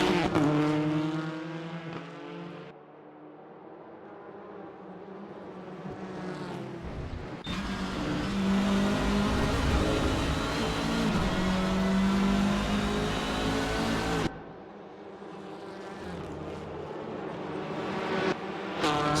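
Hyundai Elantra TCR race cars racing at Oulton Park, engines whining and revving as they pass, one car swelling loud and near in the middle before fading back to a distant drone.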